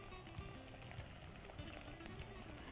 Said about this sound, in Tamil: நல்லா வதக்கிறேன்.